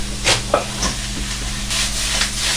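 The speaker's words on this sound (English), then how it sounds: "Right, that's stir fry." Mangetout and pork stir-frying in a hot pan, bursts of loud hissing sizzle with stirring scrapes, fairly close and without talk.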